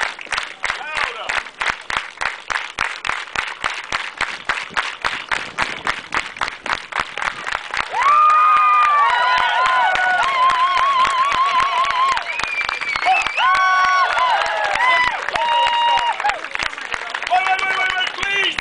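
Street crowd applause in Amsterdam, fast rhythmic clapping at first, then a dense wash of clapping mixed with loud cheering, whoops and shouting voices that fills the rest of the scene.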